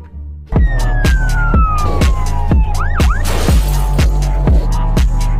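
Toy police patrol car siren wailing loudly and close, a rhythmic electronic whoop repeating about every half second alongside a descending tone, with no talking over it.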